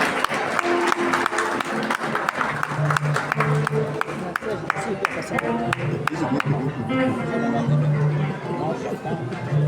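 An audience at a hair conference in Paris applauds a performer while music plays and voices chatter, with clapping mixed under a melodic tune and sharp hand claps punctuating the sound.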